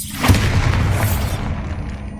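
A Bombarda blasting spell goes off in Hogwarts Legacy as a single loud, close explosion, a deep boom that rumbles and fades over about two seconds.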